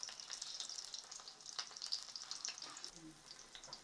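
Green chillies crackle and hiss as they fry in hot oil, a steady close sizzle with scattered sharp pops and a few soft stirring scrapes.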